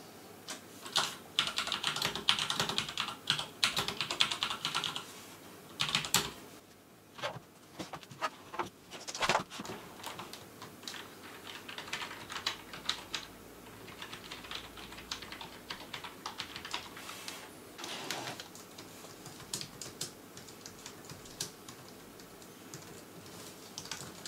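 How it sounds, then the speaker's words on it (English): Rapid, uneven clacking of a Thermaltake Tt eSPORTS MEKA G1 mechanical keyboard, keys struck in quick bursts with short pauses, close and fairly loud, no voices. "a mechanical keyboard is that it is a bit louder than a non-mechanical"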